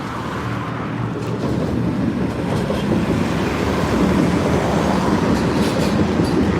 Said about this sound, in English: There's the tram going by.